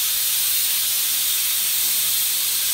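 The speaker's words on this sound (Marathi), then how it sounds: "कुकर लावलं एकीकडे, भात म्हणलं भात टाकूया आज।" A pressure cooker cooking rice on the stove releases a continuous, loud, bright hiss of steam that runs unbroken from start to finish with no talking.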